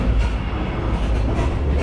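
Old-style Slovak sleeper train with cabins, operated by Železničná spoločnosť Slovensko, rumbling steadily along the rails with a constant low roar and faint rhythmic wheel clatter, close and continuous, with no voices.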